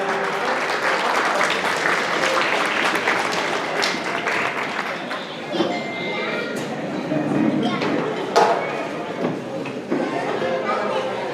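Applause from guests at a quinceañera celebration in Coacoyula, Guerrero, steady and moderately loud throughout, with crowd chatter and a few sharper knocks mixed in.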